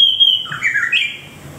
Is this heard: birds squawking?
yes